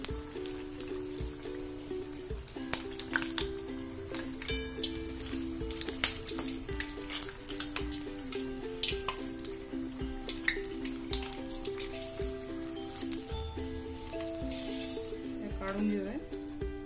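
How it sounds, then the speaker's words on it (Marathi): Battered green chillies bubble and sizzle steadily in hot oil, deep frying for Indian mirchi bhaji, with a continuous close crackle and occasional clinks of a utensil and faint background sounds. "आपल्या मिरच्या तळून तयार होत आल्या."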